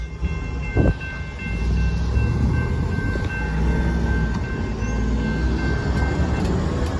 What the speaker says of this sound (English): nice horn show there on that southbound Union Pacific hopper car train